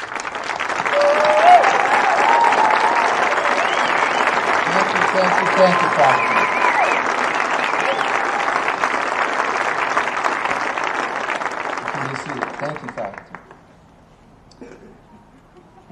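A commencement audience at Sierra Nevada University applauds the standing faculty, sustained broadband clapping for about thirteen seconds with a brief spoken thanks near the start, then fading to quiet room tone.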